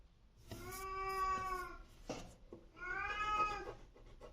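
A cat gives two drawn-out, tonal meows, each more than a second long, separated by a short gap. The calls are fairly quiet and heard without any speech.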